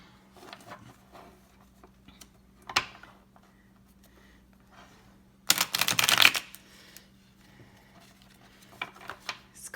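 Stiff tarot cards are handled with scattered soft flicks, then a dense, loud riffle-shuffle burst of about a second, followed by a few more quiet taps and rustles.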